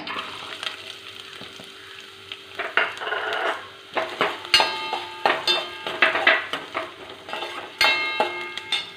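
Sliced onion dropped into hot oil while cooking an okra masala curry, with a quiet hiss that bursts into loud, crackling sizzling and repeated sharp spatters and scraping stirs close by, and no speech.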